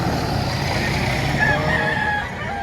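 Roosters, game fowl, crow and cluck at a busy chicken market in Batangas, with a drawn-out crow rising over dense, steady background chatter and bustle.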